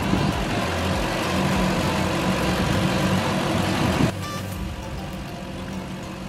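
A Toyota Land Cruiser engine idles steadily up close while its cooling system is burped, then at about four seconds the idle drops to a quieter, lower hum as though the engine is shutting off.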